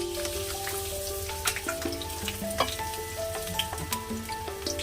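Onion and two green chillies frying in mustard oil in a wok, a busy close sizzle full of quick popping crackles, with faint background music and no talk.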